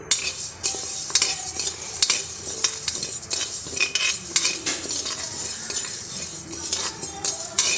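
About 100 grams of toor dal is dry-roasted in a pan until golden, with the lentils rattling and scraping under a stirring spoon in a busy, continuous, close-up clatter and no talk.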